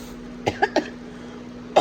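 A few short coughs close by: one at first, then two quick ones in a row, and a final cough after a pause, over quiet background.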